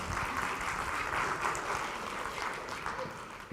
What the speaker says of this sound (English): a round of applause for my friend Tara.